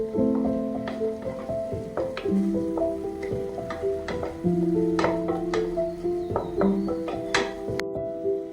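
A spice mixture sautéed and stirred in a pan while preparing a spicy Thai seafood Tom Yum soup, with steady close sizzling and repeated clinks of a utensil against the pan over a background hum.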